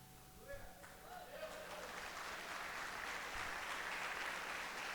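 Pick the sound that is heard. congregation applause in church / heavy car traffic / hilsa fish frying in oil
congregation applause in church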